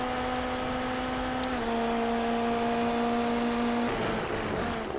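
Indy NXT open-wheel race cars howling at high revs on track, a sustained, loud, steady engine drone with shifting pitch as cars pass and change gear, without commentary over it.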